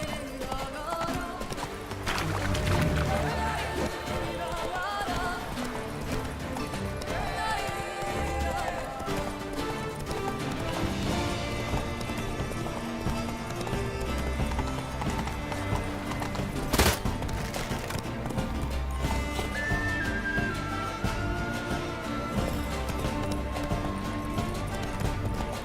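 A horse gallops in The Witcher III, with rapid rhythmic clip-clopping hoofbeats running steadily throughout over game ambience and occasional snorts.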